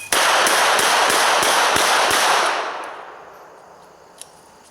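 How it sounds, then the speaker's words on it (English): Seven rapid gunshots from a .32 NAA Guardian pistol fired at full capacity at an outdoor target, sharp evenly spaced cracks over about two and a half seconds, then a fading echo and a single faint click. "7 hits, or 7 shots, so we had the gun loaded at full capacity, 6 in the magazine, 1 in the chamber"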